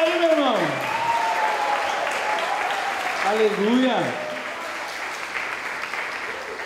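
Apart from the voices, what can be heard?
church congregation applauding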